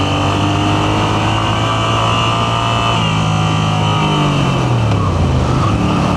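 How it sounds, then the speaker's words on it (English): A Moto Guzzi V7 Sport motorcycle engine runs steadily and loudly, then its pitch rises and shifts as the rider accelerates, with wind noise over the constant drone. "Now I will accelerate a little bit so you can look at the dash."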